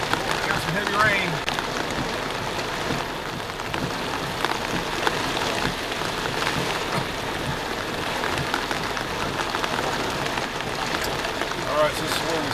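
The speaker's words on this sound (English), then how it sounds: "Got some heavy rain." Heavy rain falling outdoors during a Florida storm, a dense steady hiss of drops hitting surfaces that lasts throughout, with faint scattered background noise.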